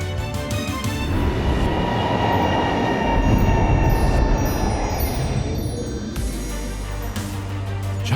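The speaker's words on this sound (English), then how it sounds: "It's called the high-speed rail." A Chinese high-speed train passes with a broad, heavy rumbling roar that swells to a peak in the middle and then fades, leaving a lower hum and faint tonal whine as it moves away.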